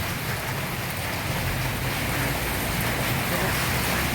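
Heavy rain pours down steadily in a dense, loud, continuous hiss with no breaks, and no talking is heard over it.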